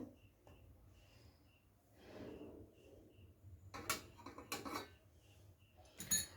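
A metal stand and then a bowl set down inside a steel cooking pot on a gas stove: a few separate, bright metallic clanks and scrapes, fairly close and moderately loud, in a quiet kitchen.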